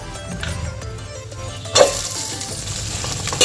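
Small chopped garlic pieces sizzling in hot oil in a pan for a veg dum biryani, a steady close frying hiss that swells suddenly midway as more goes in, with no talk.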